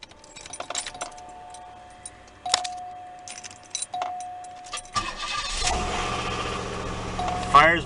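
1991 Cadillac Seville Base, keys jingling and chime tones in the cabin, then the starter cranks and the engine fires and settles into a steady idle.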